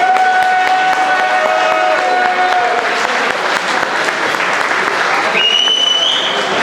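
An audience at an evening event gives sustained, loud applause that fills the whole stretch, with dense clapping and faint crowd voices mixed in.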